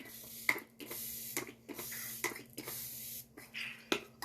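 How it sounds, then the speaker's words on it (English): Several short hissing spritzes of makeup setting spray misted in quick succession, close and soft, with quiet breaths between them. "setting spray."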